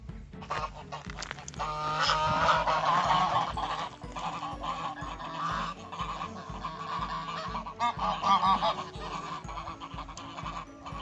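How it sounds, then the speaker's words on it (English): A flock of geese honking loudly and continuously, overlapping calls rising and falling close by with a busy, chattering quality throughout. "So that honking noise, they hiss if they feel threatened"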